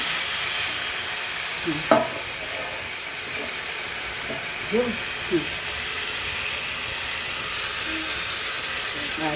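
Goat meat is sautéed (kosha) in a pan with a steady, fairly loud sizzling hiss throughout, broken by a few light clinks and scrapes from stirring.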